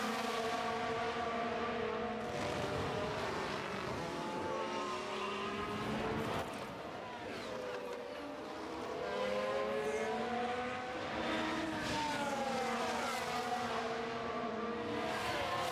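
Race cars battle and overtake at Jeddah in F1 Manager 23: a steady, high engine whine with rising and falling pitch as several cars pass, running continuously with a brief dip midway.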